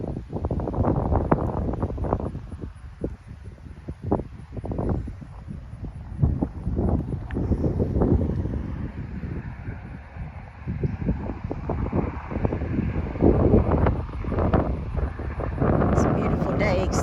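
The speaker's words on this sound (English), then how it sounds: "It's a beautiful day except for the wind." Strong wind blowing across an outdoor homestead in Oklahoma, buffeting the microphone in loud, irregular low gusts and rumbles that continue throughout, with rustling and faint bursts of a voice under it.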